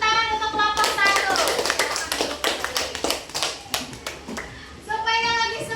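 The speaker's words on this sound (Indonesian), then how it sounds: "Kita beri tepuk tangan untuk kelompok 1." Children in a grade 6 primary school classroom clap together in a rhythmic group clapping pattern, loud and close, with voices and harmonic singing or chanting at the start and the end.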